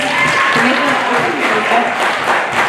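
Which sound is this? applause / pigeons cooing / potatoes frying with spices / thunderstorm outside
applause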